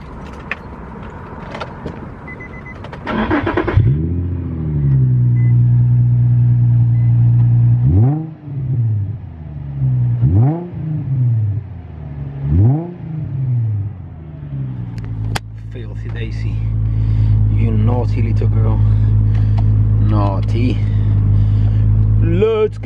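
A car engine idles, then revs repeatedly in several sharp rising and falling bursts, loud and close, before settling into a heavy rumbling idle.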